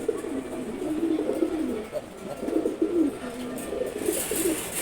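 Male pigeons, racers and giribaz among them, coo in repeated low rolling phrases at close range, several birds overlapping in a continuous murmur with faint rustling.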